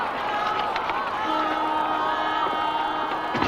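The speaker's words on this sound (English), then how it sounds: "There's no way through the crowd, General Tadya." A dense, agitated crowd of Filipinos blocks the path, a loud continuous roar of many shouting voices with scattered whoops and cries close around.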